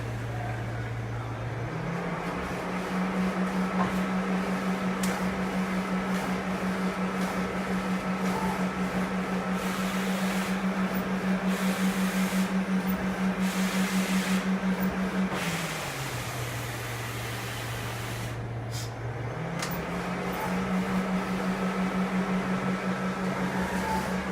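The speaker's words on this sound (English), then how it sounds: "The machine is checking. It takes some time to check." An HP DesignJet 4000 wide-format printer runs its paper check with a steady motor hum that shifts pitch up and down as the mechanism moves, continuous and close, with no talk.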